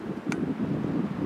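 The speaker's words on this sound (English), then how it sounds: "Sorry if it's windy." Wind buffeting a microphone outdoors near a waterfall area by a road, a low steady rumbling roar that fills the brief moment, with one faint higher blip partway through.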